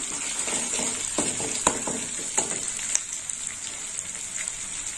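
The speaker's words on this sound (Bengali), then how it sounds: "হলুদটা একটু ভালো করে ভাজা হবে।" Half a spoon of turmeric powder fries in a pan for a snake gourd and potato dish, a steady close sizzle with a few spatula scrapes and taps as it is stirred, no talking.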